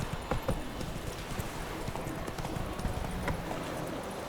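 Roach the horse galloping in The Witcher 3 video game, a steady run of hoofbeats close by with scattered louder clops over a busy game soundscape, no talk.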